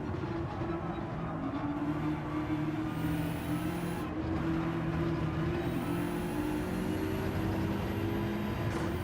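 Race car in Gran Turismo 7 driving past during online lobby racing, a steady engine drone with rising whining tones that sweeps by and repeats, continuous and fairly loud with no talking.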